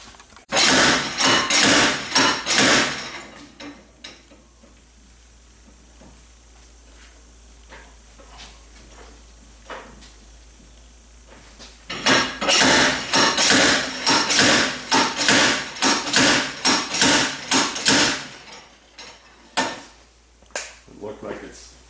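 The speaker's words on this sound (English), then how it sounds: "It looks like a really nice slide hammer." Repeated slide hammer strikes on a stubborn front hub of a 2011 Cadillac CTS AWD, coming in two loud bursts of rapid metallic clanks separated by a quiet stretch, all close up, with occasional talk around them.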